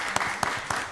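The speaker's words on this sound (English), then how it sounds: "Y'all give him a round of applause." Brief burst of clapping from a small crowd at a county board of commissioners meeting, a short patter of handclaps with a few sharper claps standing out.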